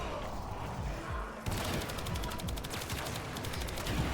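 Rapid heavy gunfire in Warframe, shotgun blasts fired in quick succession, dense and continuous at moderate level, without talking.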